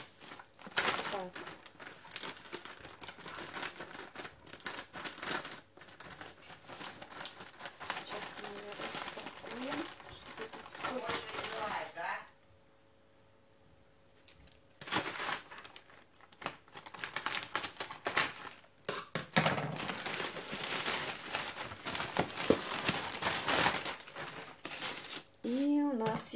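Plastic packaging from a parcel sent from Almaty being unpacked, with crinkling and rustling bursts spread across the clip, a short quiet stretch midway, and someone talking over the handling.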